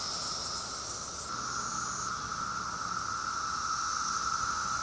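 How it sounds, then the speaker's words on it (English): Cicadas buzzing outdoors in Washington, DC on a windy day: a loud, dense, continuous shrill chorus with steady high-pitched bands, close and unbroken for the whole stretch. "The cicadas are everywhere."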